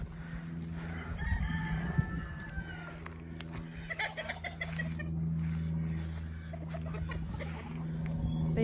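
Chickens cluck and murmur softly nearby, with a rooster crowing in the background over a steady low hum.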